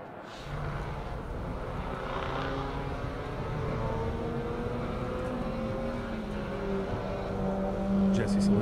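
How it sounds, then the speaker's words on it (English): Honda S2000 race car lapping Circuit of the Americas at a Super Lap Battle event, its engine droning steadily at a distance as it climbs and shifts, beneath a commentator speaking throughout. "Jesse Selinsky right there, number 857 Honda S2000. Oh, it does look like he came in"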